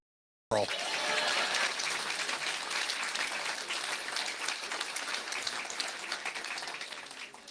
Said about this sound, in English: Ladies and gentlemen, a round of applause for Adam, my Attorney General.